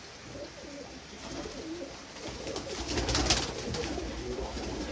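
Blue and mottled Jarnail Kanewale pigeons coo softly in a soft, repeated rhythm against a steady hiss of background noise, with no voices.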